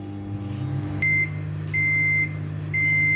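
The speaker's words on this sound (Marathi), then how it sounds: "हे मिक्सचर एका मगमध्ये ट्रान्सफर करून त्याला मी ओव्हनमध्ये गरम" Microwave oven warming a mug of instant filter coffee mixture, its steady hum joined by three loud, sustained electronic beeps spaced about a second apart.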